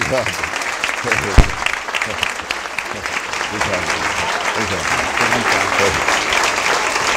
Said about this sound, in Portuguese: Vamos, portanto, agora receber com aplauso Contardo Caligares.